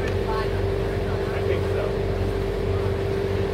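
A roughly 40-foot Formula Express Cruiser powered by twin diesel engines idles at a pier with a loud, steady, low engine rumble that holds constant throughout.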